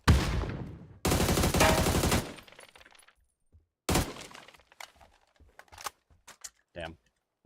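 A grenade is thrown and explodes in PUBG; a loud blast and burst of gunfire-like crackle fill the first seconds, followed by quieter scattered clicks, thumps and sharp impacts.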